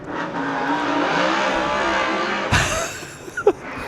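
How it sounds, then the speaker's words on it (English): Superstock race car engines bounce off the rev limiter during the Wellington Superstock Shootout, a loud sustained buzzing roar that breaks off into a sharp crash, then brief tyre squeals. "Listen to those engines. Oh, they're on the rev limiter"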